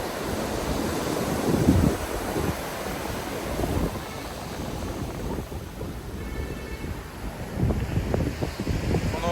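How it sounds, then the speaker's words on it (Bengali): Big ocean waves break on the beach at Cox's Bazar in a rumbling, surging wash that swells and recedes under strong gusts of wind buffeting the microphone, with no talking. "অনেক বড় বড় ঢেউ এসে এই সমুদ্রের পাড়ে এসে আশ্রয় করছে"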